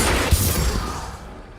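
A Diffindo spell cast in the Hogwarts Legacy video game bursts out as a loud, dense blast with a sharp thump, fading over about a second and a half.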